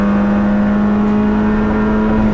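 A Nissan Micra K11 runs flat out on the Nürburgring, its engine screaming in a loud, steady high-revving drone heard from inside the car.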